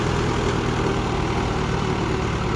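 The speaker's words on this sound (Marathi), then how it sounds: "आता आपलं ट्रॅक्टर चढते का नाही बघूत आपण" A tractor engine labors steadily while climbing an uphill slope, a continuous low rumbling drone that holds at a constant close, loud level with no pauses.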